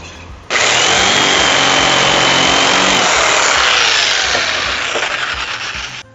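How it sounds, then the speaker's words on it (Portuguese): A jigsaw with pendulum action cuts through wood, starting abruptly and running as one loud, continuous buzzing cut that eases slightly toward the end before stopping, with no talk over it. "Se eu for jogando mais para frente, a serra vai girando para comer mais rápido também."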